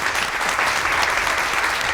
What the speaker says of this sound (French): bien sûr, on peut vous applaudir.